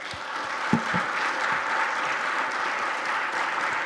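Audience at a church pastors' convention session applauding, a broad wash of many hands clapping at moderate loudness, with a few sharper nearby claps early on and no talk.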